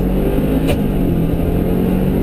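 A 2011 Subaru Forester S automatic held on the brake and throttle, its engine droning loudly and steadily at high revs close by, with a brief click partway through.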